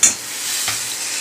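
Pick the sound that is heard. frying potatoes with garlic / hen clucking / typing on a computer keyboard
frying potatoes with garlic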